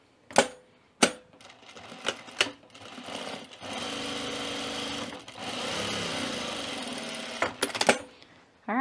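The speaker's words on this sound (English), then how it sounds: "And so I'm gonna sew it at 3/8 inch." A sewing machine stitches a French seam at 3/8 inch in two sustained, close, whirring runs, set between sharp clicks and knocks of handling the fabric and machine.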